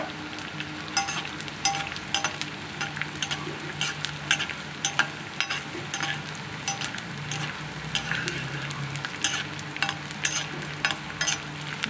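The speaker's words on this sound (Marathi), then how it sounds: "जास्त डिंक टाकला की मग तो व्यवस्थित तळला जात नाही, म्हणून थोडासा डिंक टाकून तळून घ्यायचा आहे।" Edible gum (dink) fries in hot ghee over a low flame with a steady, close sizzle and crackle, broken by occasional stirring clinks and no talking.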